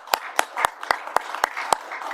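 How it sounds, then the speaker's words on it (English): At a council meeting, a few people clap in a sparse, evenly spaced run of about seven distinct claps, fairly close and clear over a quiet room. "and a big, big round of applause to you."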